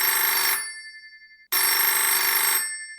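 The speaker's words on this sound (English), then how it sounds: "I hear the phone ringing here." A telephone rings in two loud electronic bursts of about half a second and one second, separated by a silent gap, with no voices.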